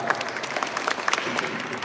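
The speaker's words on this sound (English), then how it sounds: "You can repeat that applause when he comes in the front door." A brief burst of audience applause at the Moynihan Center inauguration: many hands clapping in a dense, lively patter, close and fairly loud, with a few crowd voices mixed in.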